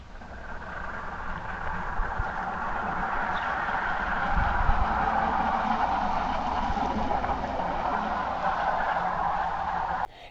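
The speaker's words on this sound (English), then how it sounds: "just listen to this truck approaching from several hundred feet away" Truck approaching from several hundred feet away, picked up by a security camera microphone: a distant, steady broadband rumble that slowly swells over about ten seconds, with no voices.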